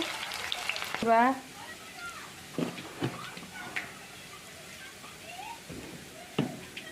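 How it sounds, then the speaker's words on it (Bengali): Onions frying in oil in a kadai, a soft sizzle behind clattering stirs and a few scrapes, with a short burst of speech near the start. "কেরাহিত তেল দেওয়া হইলো, পেঁয়াজ দেওয়া হইলো"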